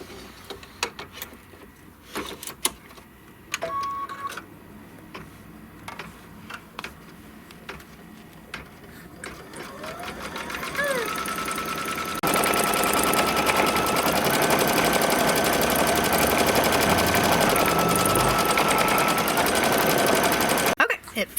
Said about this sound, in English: now it's going to stitch the tack down, and then it's going to stitch the quilting on this piece